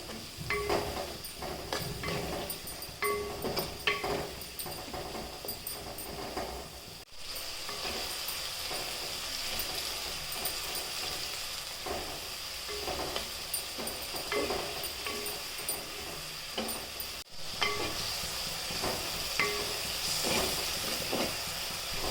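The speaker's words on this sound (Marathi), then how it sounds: "पटकन कांदा परतून होत असतो" Onion sautéing in a pan with salt for a drumstick-flower vegetable dish: a steady, dense sizzle and hiss fills the whole stretch, with scattered stirring clicks and scrapes, close and continuous.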